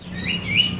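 A trucuk kebo bulbul at a bird stall gives short, rising and falling whistled chirps over a steady low background hum, close and fairly loud.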